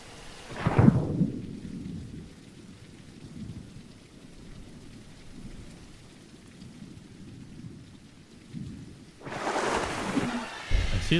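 A thunderstorm rolls through the Day of Dragons video game: a thunderclap opens the scene, steady rain patters underneath, and a louder wash of rain and rumble swells near the end, with no talking.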